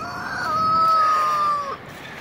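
A rooster crows once, a loud, sustained, clear call, close by and rising over steady background noise, with no talking.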